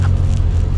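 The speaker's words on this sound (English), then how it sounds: "Sorry about the road noise that's probably going to be in the background of this" Steady low rumble of road noise from a moving Classic Mini, constant and fairly loud, with no voices over it.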